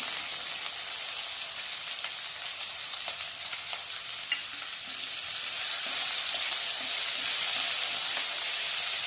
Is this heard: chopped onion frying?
yes